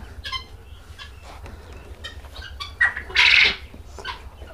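Quail on a farm chirp and cluck in scattered bursts, with a louder cluster of calls near the end over a low steady hum.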